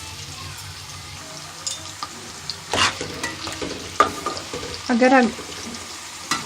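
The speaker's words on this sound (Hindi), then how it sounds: "इसको हम अच्छे तरीके से फ्राई करेंगे" Nimko sev sizzles in hot oil with a soft, steady crackle while a utensil stirs and scrapes the pan in a few louder bursts; a voice speaks briefly near the end.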